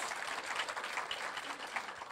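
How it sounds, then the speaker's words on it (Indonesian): A church congregation claps for Jesus during a sermon, a dense, steady wash of many hands, fairly soft and even throughout with no voices standing out. "Tepuk tangan buat Tuhan Yesus."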